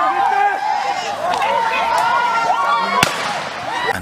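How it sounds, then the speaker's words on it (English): A single sharp bang cracks out over a noisy, agitated crowd of overlapping voices. "The third gunshot was the last sound heard."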